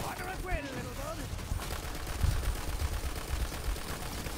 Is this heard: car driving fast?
no